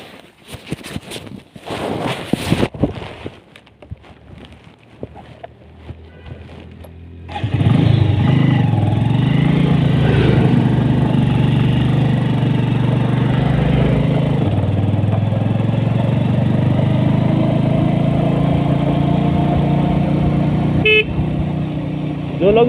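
A motorcycle rides along a mountain road near Nainital, Uttarakhand, its engine droning loudly and steadily with wind rush after a noisy start with rattles and a voice.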